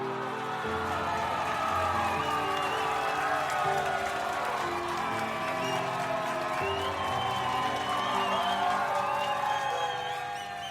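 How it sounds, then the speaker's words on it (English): A recorded applause and cheering sound effect plays as a steady, dense crowd roar with whoops and clapping, holding at an even level throughout. "you all get a clap. You all get some applause."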